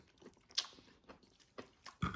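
Crunchy sautéed greens being chewed close up, with a few distinct crisp bites and crunches scattered through a short, quiet stretch of mouth sounds.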